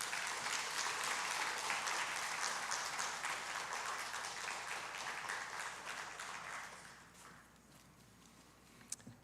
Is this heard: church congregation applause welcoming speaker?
yes